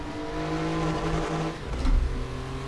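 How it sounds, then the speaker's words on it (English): Porsche 911 964 Carrera Cup race car in the RaceRoom racing game, its engine droning steadily with a harmonic hum, then dipping and surging briefly as the revs change near the end. "I'm in the Porsche 911 964 Carrera Cup, built from 1990 to 1994 and used in the Carrera Cup series"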